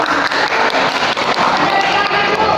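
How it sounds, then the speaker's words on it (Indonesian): A classroom group at a counseling session claps hands together in a dense, steady patter of many overlapping claps that stays loud and continuous throughout. "Oke, tepuk tangan."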